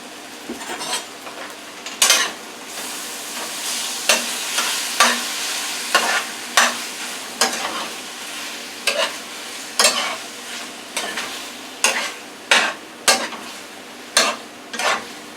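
Honey mustard chicken sizzles steadily in a hot pan while a spoon scrapes and clacks against the metal in irregular strokes, close and fairly loud, with no talking.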